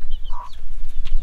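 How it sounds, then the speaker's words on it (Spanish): A farmyard hen with her chicks gives short, close clucks and soft chirping calls over a low rumbling background, lasting only about a second. "Aquí tenemos una gallina con pollitos."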